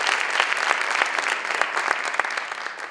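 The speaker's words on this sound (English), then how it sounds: "So can we give Mr. Grice, young Mr. Grice, a round of applause for that" An audience at a gala applauds, a dense burst of clapping from many hands that keeps up steadily for the whole stretch.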